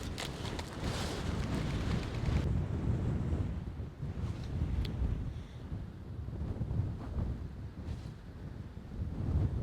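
Raw wind blows across late-season sea ice during ice fishing, roaring steadily and buffeting the microphone in dense low gusts throughout, with no voices.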